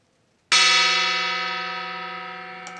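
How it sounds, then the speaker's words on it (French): A single loud strike on a gong on a flowered terrace, followed by a long, shimmering ring that slowly fades with no other sound. "Un gong pour réveiller le voisinage."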